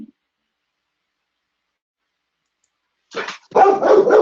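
Dogs barking in bursts near the end, loud and close in an otherwise silent room after a brief opening sound.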